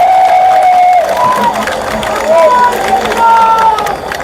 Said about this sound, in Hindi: जरा जोरदार तालियां बजाओ